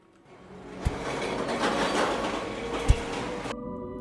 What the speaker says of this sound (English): So we can take a train from here